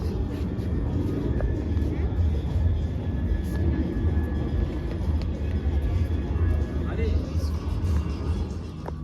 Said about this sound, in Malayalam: ഫ്ലൈറ്റ്.